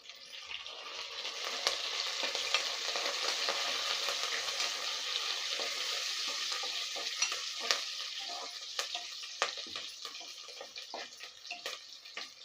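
Curry leaves fry and get sautéed in hot oil in a pan. A bright, continuous hiss carries sharp crackles and scraping stir strokes at close range, with no voices.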